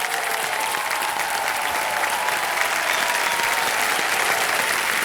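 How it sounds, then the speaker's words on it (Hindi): Studio audience applauding on the set of the Hindi quiz show Kaun Banega Crorepati Season 14, a steady, dense wash of clapping filling the whole stretch without pause. "ताली बज जाए इनके लिए।"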